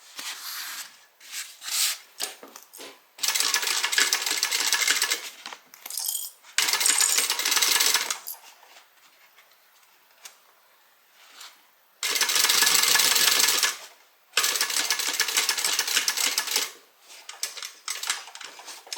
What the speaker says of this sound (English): I'm just going to stitch right across the top here